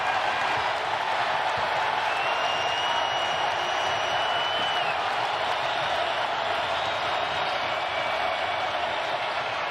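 A large home crowd roars at a Tennessee college basketball game against Florida, a steady, dense wash of cheering and noise that holds throughout without a break.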